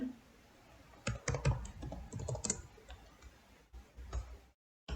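An SQL query typed on a computer keyboard, with quick clusters of sharp, close key clicks and short pauses between bursts.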